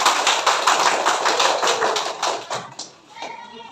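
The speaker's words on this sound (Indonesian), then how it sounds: "Ya, tepuk tangan dulu." A class of students claps hands together in a classroom, a quick burst of sharp, rhythmic claps for about three seconds that then fades, with faint voices after.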